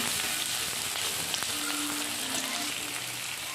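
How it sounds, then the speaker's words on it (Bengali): Onions frying in oil for a fish curry, a dense, steady, close sizzle that continues unbroken with no voices. "তেলের মধ্যে পেঁয়াজটাকে ভেজে নিচ্ছি"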